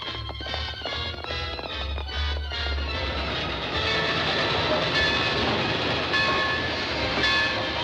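A train rumbles along the rails, with rhythmic metallic clacking at first giving way to a dense, steady roar of rolling wheels.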